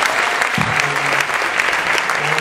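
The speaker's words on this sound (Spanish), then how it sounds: "Un aplauso para él." Dense, sustained applause from a crowd at a political gathering marking six months since Santiago's disappearance, welcoming Leo Grosso, national deputy of Movimiento Evita, to speak; steady clapping throughout with a faint voice briefly underneath.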